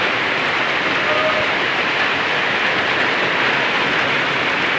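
Heavy storm rain pours down steadily, a dense, loud, unbroken hiss of drops on surfaces filling the whole stretch without letup.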